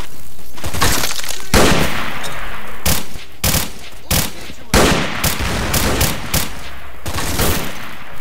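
In the game S.T.A.L.K.E.R.: Clear Sky, a thrown grenade goes off amid loud, dense bursts of gunfire that pound on through the whole stretch, with a voice shouting now and then.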